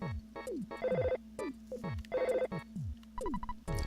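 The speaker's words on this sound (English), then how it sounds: "Ness answered the phone." A telephone rings in the Earthbound video game, its chiptune ring repeating in short bursts over a bouncy game melody, fairly loud with no voices.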